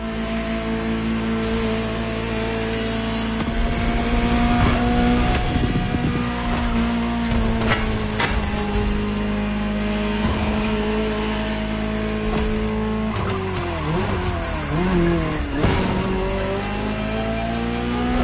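A Ferrari GTO, the special 308-derived Gran Turismo Omologato, drives by with a loud, sustained engine drone whose pitch sweeps up and down through gear changes, close and continuous with no talking.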